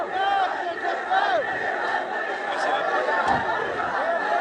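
Political rally crowd in Pishin, many voices shouting and chanting slogans together, a loud continuous roar of massed voices with whistles and cheers rising over it throughout.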